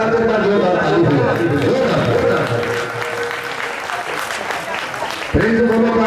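Loud crowd clapping at an outdoor gathering, thick and continuous with shouting and chatter mixed in, ending in a burst of voices near the close.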